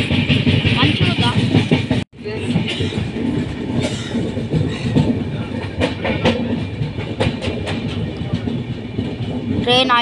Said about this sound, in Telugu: ట్రైన్ ఆగిపోతుంది.